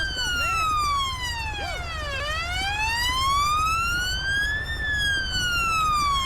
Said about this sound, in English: Oh no, it's his siren.